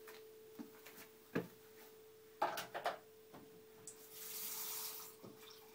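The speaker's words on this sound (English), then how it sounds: "I'm going to add water to it." Tap water runs briefly as it is poured into a homemade juice blend with olive oil: a soft, quiet hiss of flowing water late in the clip after a few faint clicks and knocks.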